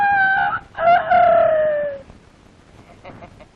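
A man imitates a rooster crowing in a Tamil film scene. His voice gives loud, drawn-out crows with rising and falling pitch, two bursts close together, then fainter clucking sounds fade into background noise.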